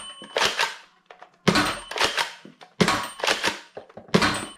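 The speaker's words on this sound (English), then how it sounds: "To operate the blaster, assuming you have darts loaded, simply pull the bolt back, release it," A Nerf N-Series blaster is cocked and fired several times over, each time a sharp plasticky bolt clack followed by a snapping shot, close and loud with short gaps between.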